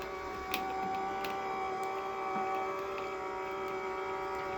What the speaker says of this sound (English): So if I just switch my machine on, pop my clear plate over the top, feed it through,